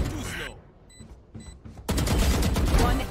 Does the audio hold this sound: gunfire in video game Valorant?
yes